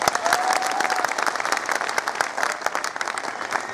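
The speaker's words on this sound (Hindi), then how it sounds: "प्रदर्शन में शामिल हो रही हमारी माताओं बहनों के लिए एक जोरदार तालियां मांगता हूं" A crowd at a street demonstration bursts into vigorous, continuous applause for women joining the protest, loud and dense with a faint background hum of the gathering.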